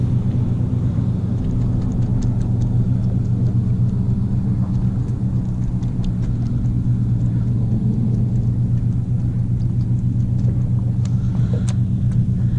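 An engine on a fishing boat hums and rumbles steadily, a low continuous drone with faint clicks and knocks over it, no voices present.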